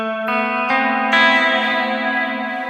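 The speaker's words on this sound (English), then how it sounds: "this sound is my very soaked in reverb sort of a sound" Sustained electric guitar chords on the bridge pickup of an Ena Nova Go Sonic smart guitar, drenched in heavy reverb, each strum blooming and ringing out into a long, washy shimmer.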